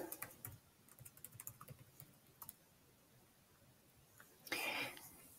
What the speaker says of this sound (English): And you'll punch in your password.